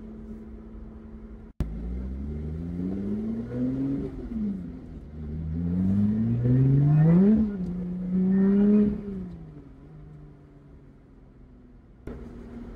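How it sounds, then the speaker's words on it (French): Supercharger whine from a Lotus Exige 410S while driving, a rising and falling tonal whistle following the engine revs through several gear changes, with a sharp click near the start. "On entend bien le compresseur, hein, il chante super bien."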